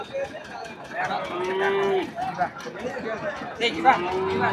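Sindhi cattle low at a cattle market in Kundadam, with two drawn-out moos rising over a busy background of people chattering.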